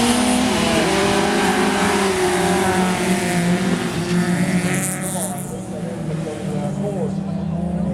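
Rallycross race cars in a Division 1a B final at Põltsamaa roar and rev continuously, engines loud and steady as they race, with a commentator talking over the noise.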